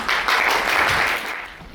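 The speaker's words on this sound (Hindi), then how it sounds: "मुनि जी का तालियों से स्वागत करें।" Steady applause from an audience welcoming a guest speaker at the opening of a social research institute's gathering, dense and continuous, easing slightly toward the end.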